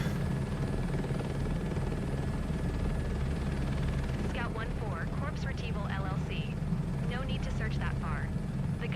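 Helicopter in the Microsoft Flight Simulator 2024 game drones with a steady low rotor and engine rumble throughout, while someone talks over it during the second half.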